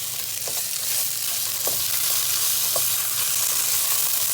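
Ginger garlic paste frying in a pan, a steady soft sizzle throughout with occasional faint scrapes and clicks of stirring, close and continuous, no talking.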